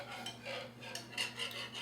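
A lemonade ice cream base thickened with cornstarch being whisked in a pot, a soft steady scraping and clinking of the whisk against metal, quiet and continuous with no voices.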